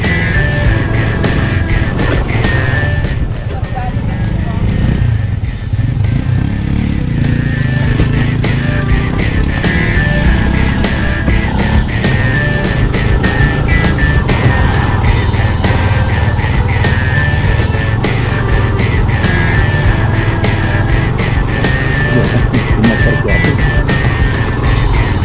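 A motorcycle riding a dusty up-and-down road toward a white sand beach in Mariveles, Bataan: a loud, continuous engine drone with heavy wind buffeting the microphone throughout.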